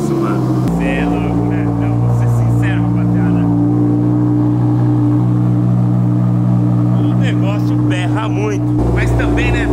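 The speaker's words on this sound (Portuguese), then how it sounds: "vamos ligar aqui pra vocês verem o barulhinho do bicho, como que tá, né, mano? Porque eu troquei o escape dele" Audi R8 V10 with a modified exhaust idling loudly up close, a deep steady rumble with a jump in volume near the start, while someone talks over it with brief sharp sounds near the end.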